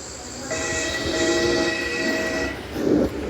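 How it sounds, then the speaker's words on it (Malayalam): A train in the horror video game Choo Choo Charles picks up speed: a sustained, tonal horn-like whistle sounds over rolling rail noise, followed by a short rumbling burst near the end, with no talking. "അയ്യോ, ഞാൻ ട്രെയിനിന്റെ സ്പീഡൊക്കെ കൂട്ടട്ടെ."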